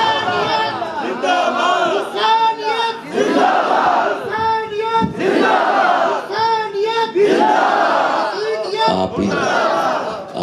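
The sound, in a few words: crowd chanting religious slogans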